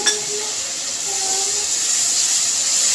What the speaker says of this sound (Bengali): এখন জিরা পাটাটা দিয়ে একটু ভেজে